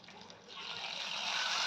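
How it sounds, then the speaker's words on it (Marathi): Three-quarters of a cup of water poured into a hot tempering of sesame seeds for dhokla, a hiss rising into a steady, loud, bright splashing rush over under two seconds. "यामध्ये पाऊन कप पाणी घालायचं आहे"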